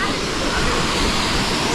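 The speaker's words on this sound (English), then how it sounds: "The first Indian waterfall." Steady, loud broadband roar of an Indian waterfall in the Western Ghats jungle of Karnataka, continuous and close with no break across the short stretch.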